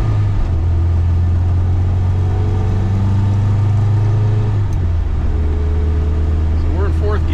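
A 1970 MGB GT engine drones loudly from inside the car as it pulls away, a steady low rumble that shifts pitch partway through as the car accelerates.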